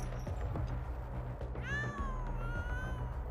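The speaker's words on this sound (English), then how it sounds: "Meowing." A cartoon cat meows in a Chainsaw Man anime scene, one drawn-out rising then falling meow over steady background music and ambience, clear and close.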